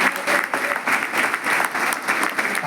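An audience at an official felicitation gathering bursts into dense, continuous applause, many hands clapping at once in a steady, close wash that swells slightly in pulses with no pause.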